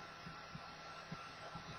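Faint, steady whir of a hair dryer blowing over thinned acrylic Tamiya paint on a model car hood, a continuous broadband hiss with a few soft bumps.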